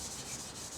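A polishing pad rubs against a scratched motorcycle exhaust pipe on a 1098S, making a close, steady, even abrasive rubbing with no pauses over a brief moment.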